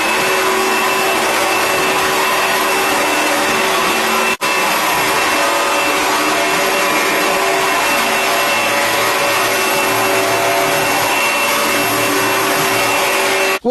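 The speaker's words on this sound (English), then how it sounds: "So let's do some more vacuuming." An Oreck HEPA lightweight bagged upright vacuum cleaner runs steadily and loudly throughout, a continuous motor whine with brush roll noise and only a brief dip partway through.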